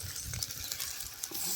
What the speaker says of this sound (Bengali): ঢেঁড়সটাকে ভালো করে ভেজে নিচ্ছে